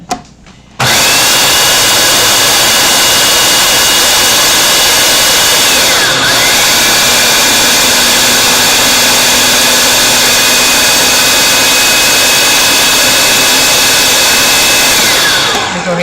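A kitchen blender starts abruptly and runs at a loud, steady whir while blending cashews for vegan cheese, with a brief dip in pitch midway, then stops near the end.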